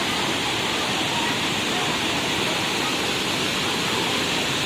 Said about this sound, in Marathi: धबधब्याचा झोत मोठ्या प्रमाणात खाली पडत आहे